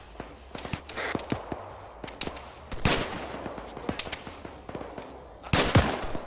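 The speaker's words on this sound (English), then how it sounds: "These guys are now firing up at them" Gunfire in the video game Arma 3 Cold War Ops, with scattered rifle and automatic bursts cracking at varying distances and heavier volleys near the end.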